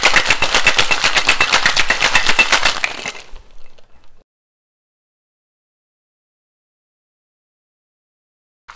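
A cocktail shaker is shaken hard and fast for about three seconds, a loud, even rattle of ice against metal that stops suddenly and leaves near silence with a small knock at the end.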